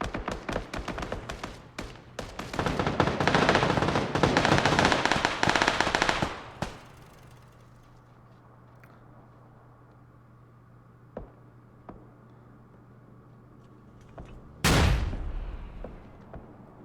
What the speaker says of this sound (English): Nades and everything going out here